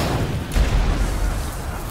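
A heavy, booming scorpio siege weapon shot in the video game Ryse: Son of Rome bursts out mid-clip and rolls on in a low rumble, set against a dense battle-like background din.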